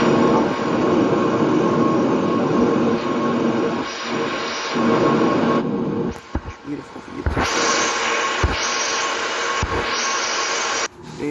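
Jet engines of a Lufthansa A319 whine and hum steadily while taxiing in the Aerofly flight simulator game, with the drone dipping midway and broken by brief clicks and bursts of noise.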